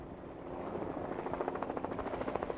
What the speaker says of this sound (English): The smallest firefighting aircraft are rotor wing or helicopters.